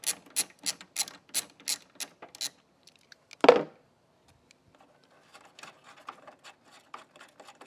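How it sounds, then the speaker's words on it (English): A 10 mm socket on a ratchet working bolts loose on a car headlight assembly, a rapid run of sharp clicking pawl ratchets, a loud knock, then quieter scattered clicks, close and alone. "It's your 10 millimeter socket, ratchet, impact, whatever you prefer."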